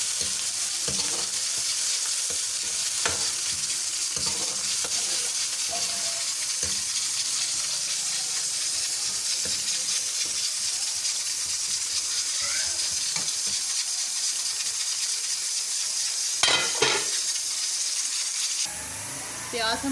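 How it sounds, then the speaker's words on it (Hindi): Onions frying in a pan, a steady loud sizzle throughout with occasional stirring scrapes and clinks, continuous and close. "प्याज को अच्छे से हम फ्राई करेंगे।"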